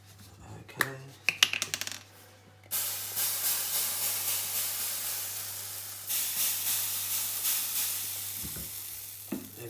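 Hissing aerosol cooking spray, Frylight, sprayed in a home kitchen while preparing a Sunday roast, a few clicks and knocks first, then a long steady hiss with short pulses and brief breaks, fairly close.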